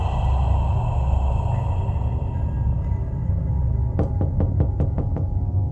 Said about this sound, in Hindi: दोबारा कोई इनका दरवाजा खटखटा रहा है